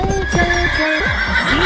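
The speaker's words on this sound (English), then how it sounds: "horse" A horse whinnies in a short, high, wavering neigh that rises and falls, loud and near, with a light clip-clop of hooves beneath it, set inside a children's alphabet song.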